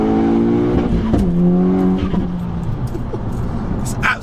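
A 2-litre four-cylinder single-turbo engine in a VW Golf Edition 30 revs hard, its note climbing and then settling into a loud, close, sustained growl before easing off.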